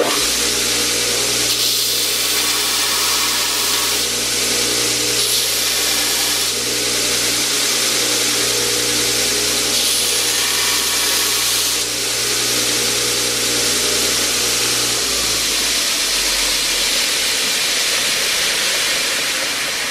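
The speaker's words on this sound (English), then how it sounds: "It's a lot faster with that belt sander than it would be if you were using the Dremel tool." A belt sander grinds steadily while shaping a piece of deer antler into a morel mushroom carving, a loud continuous whir with hiss that keeps on, then winds down near the end with no talking.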